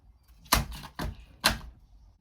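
A scratch card is slapped down hard on a shop counter, three sharp, close knocks about half a second apart in a quiet room, with no talk.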